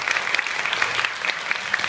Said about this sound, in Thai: ใครเชียร์ น้องโคลชาผู้ชายขอเสียงปรบมือด้วยครับ